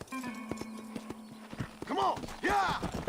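Horse hooves clip-clop in Red Dead Redemption: a run of evenly spaced hoofbeats over a steady low hum, then the horse lets out loud whinnies close by. A voice speaks briefly underneath.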